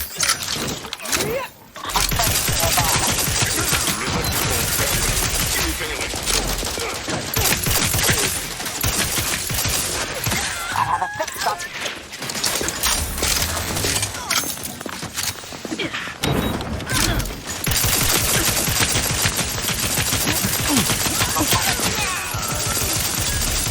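Heavy, nearly continuous gunfire in The Outer Worlds 2: a dense barrage of overlapping shots that stays loud throughout, with only brief dips in intensity.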